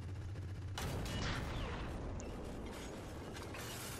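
A tank firing shells in a video game, a heavy boom opening into a dense rumbling blast with mechanical creaks and clanks that fade over several seconds.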